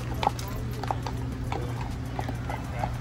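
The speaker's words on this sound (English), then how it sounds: "We always have to stop for the police horses." Police horses walk past on pavement at an outdoor horse festival, their hooves clip-clopping in a loose, irregular rhythm at moderate distance over a low crowd murmur and faint voices.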